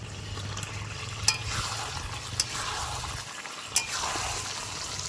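Chicken frying in a pan with fried potatoes tipped in: a steady low sizzle with faint stirring scrapes and three sharp clinks, close and without talk.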